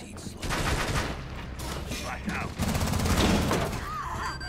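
Rapid gunfire in the video game Rainbow Six, dense bursts of automatic shots in a loud, continuous fusillade, with voices speaking over the shooting.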